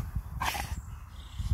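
A dog barks once and growls in a short, fairly quiet burst against a noisy outdoor background while a campervan is parked in Auray, Morbihan.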